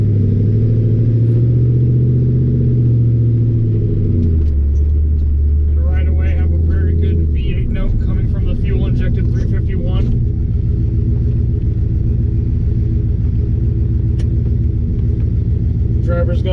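427HP Factory Five Racing 1933 Ford Roadster engine droning under way, a deep rumble that drops in pitch after a shift and settles into a steady low growl, with someone talking over it.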